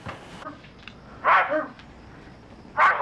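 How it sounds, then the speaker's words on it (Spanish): Two short dog barks from a man's dog in a Colombian telenovela scene, a moderately loud burst a little over a second in and another near the end, separated by quiet room tone. "¿Y esos ladridos que son, compadrito?"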